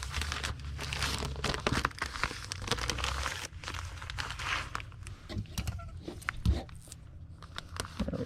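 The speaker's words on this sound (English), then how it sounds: "I'll go ahead and put it in one of these used comic book plastic bags" Used plastic comic book bag crinkling as an item is slid inside, irregular close rustles and crackles with a few sharper crunches, loud at first then thinning out.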